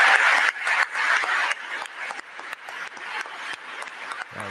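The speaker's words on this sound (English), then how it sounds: "Look at the standing ovation he's getting" A standing ovation fills a large hall with dense applause, loud at first and then settling into steadier, slightly thinner clapping with scattered sharp individual claps.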